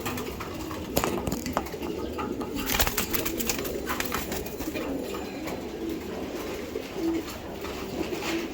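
A racing pigeon, a young grizzle hen from a club loft, coos in low repeated murmurs close by, with scattered rustling and brief sharper sounds among them.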